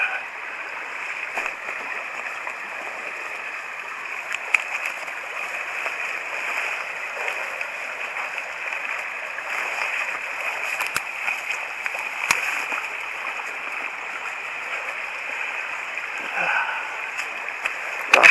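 Creek water of the South Para River flowing steadily over a crossing, a continuous close hiss and babble with occasional small splashes.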